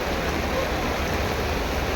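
Steady, dense rush of heavy rain and floodwater at Kurla station, Mumbai, loud and continuous with no breaks.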